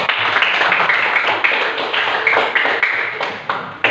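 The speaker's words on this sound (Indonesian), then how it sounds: "kita berikan aplaus bagi kelompok 1" A small group claps for a presenting team in a teacher-training session, a brief, moderately loud round of hand claps with uneven rhythm that fades at the end.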